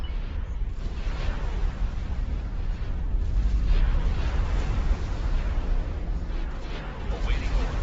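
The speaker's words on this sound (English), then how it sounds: "the explosion effects are so good" Explosions in a Star Wars space-combat mod of the X4 video game, with TIE interceptors in the fight, heard as a dense, continuous rumbling barrage of booms and blasts, loud and steady throughout with no speech.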